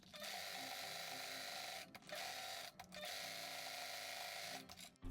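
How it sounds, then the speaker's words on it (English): A sewing machine runs a fast, continuous zigzag stitch on a fan case, whirring steadily with a few brief pauses between runs, close and fairly quiet. "Then I'm going to zigzag stitch everything, just in case it goes wrong."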